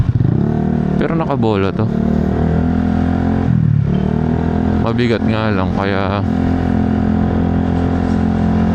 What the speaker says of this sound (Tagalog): puro ingay yung motor natin